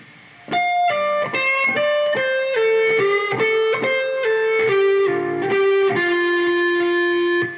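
An electric guitar with distortion plays a slow passage, a sequence of about a dozen distinct picked notes stepping downward and back, clear and alone without talking.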